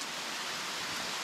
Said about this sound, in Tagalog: Palipasin ko lang yung ulan na yan at makauwi na.